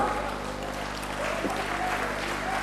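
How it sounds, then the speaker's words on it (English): An audience applauds at the lamp-lighting inauguration of a Tamil economic conference in Pondicherry, a steady wash of clapping from a large crowd that continues evenly for a few seconds. "I request the Prime Minister of Guyana, His Excellency Moses Veerasamy Nagamuttu, and his wife, Mrs. Sita Nagamuttu, for lighting the lamp and inaugurating the conference with a huge applause"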